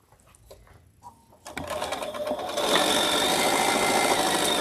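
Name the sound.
sewing machine stitching Dresden blades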